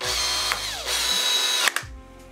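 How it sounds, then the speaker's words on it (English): Cordless power drill driving a mountain bike pedal home, a whirring motor that revs, dips and spins up again, then a sharp ratcheting clutch click before it stops, close and loud with no speech. "I'm just gonna use my drill just to send this home"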